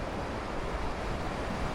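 Ocean waves wash continuously onto a sandy beach in Tampico, a steady, broad rushing wash with no breaks, with some wind noise mixed in.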